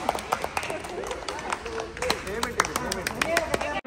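A small group of people clapping at a car delivery in a showroom, with scattered quick claps running throughout while people talk over them nearby.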